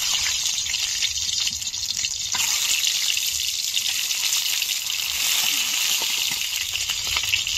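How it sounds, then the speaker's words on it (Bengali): Eggs frying in oil in a hot wok give off a steady, close, broadband sizzle with a faint crackle that holds the whole time and carries no talk. "ডিমটা ভালো করে ভেজে নেব।"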